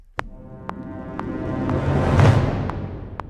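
An orchestral sample run from ProjectSam Pandora, starting on beat 1, swells and builds over evenly spaced sharp metronome clicks, then eases off, with no talking.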